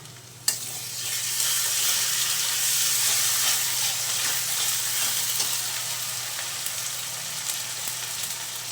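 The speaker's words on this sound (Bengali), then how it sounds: "এখন দিয়ে দিচ্ছি রসুন আর জিরা বাটা।" A paste of garlic and cumin hits reddish-fried onions in a hot pan, bursting into a loud, steady sizzle after a sharp onset and hissing evenly throughout.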